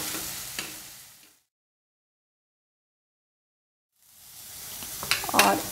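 Grated beetroot sizzles and scrapes as it is stirred in a hot pan, the sound cut to silence in the middle before the frying returns louder with a few sharp stirring clicks.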